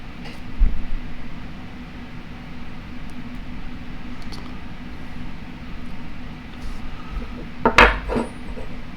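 Quiet workshop hum with a few scattered light metallic clinks as hammer parts drop into the hammer cage of a Matco MT2134Q 3/4" air impact wrench, ending in a sharper clink of small metal parts near the end.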